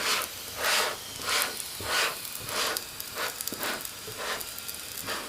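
A Mongolian meat pie pan-fries in a skillet, giving a steady soft sizzle and hiss with rhythmic swells, about one per second, as the pie is turned. It is fairly quiet and close, with no voices.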